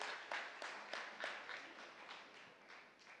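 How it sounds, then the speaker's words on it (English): An audience applauds for Singapore Armed Forces officers at a supply chain conference, steady rhythmic clapping heard faintly at a distance and fading slightly. "Please, round of applause for Singapore Armed Forces."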